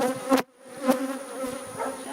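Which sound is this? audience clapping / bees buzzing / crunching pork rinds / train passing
bees buzzing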